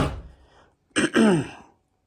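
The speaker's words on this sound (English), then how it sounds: "sorry, excuse me for coughing" A single throaty cough or throat-clearing, close and fairly loud, follows a brief quieter exhale, with silence around it.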